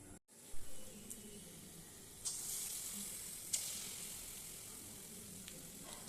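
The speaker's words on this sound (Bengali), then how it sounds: "তেলটা অলরেডি গরম হয়ে গেছে আমার কড়াইতে। এবার আমি বড়াগুলো ভেজে নেব।" Palm-fruit fritters (taler bora) frying in hot oil in a wok, a steady close sizzle with a few sharper crackles and pops, no talk.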